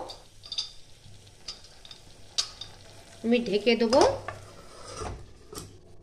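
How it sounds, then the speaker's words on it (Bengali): Bottle gourd (lau) curry sizzles as it is stirred in a pan, the spoon scraping and clicking repeatedly over a soft frying hiss, with a short voice partway through. "একটু ভালো করে আমি নাড়িয়ে চাড়িয়ে আমি ঢেকে দেবো"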